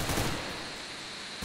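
Gunfire in Counter-Strike: Global Offensive, a steady wash of rapid shots that fades slightly toward the end, heard alone without voices.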